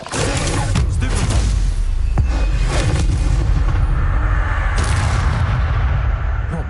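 Incendio fire spell cast against a giant spider in Hogwarts Legacy on PS5, a loud sustained roaring blast with booming impacts and crackling bursts throughout, nothing quieter between.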